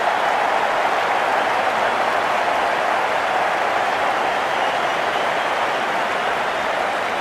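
A stadium crowd at a women's T20 World Cup cricket match between Bangladesh and Australia applauds and cheers, a dense continuous roar of clapping that holds evenly loud throughout.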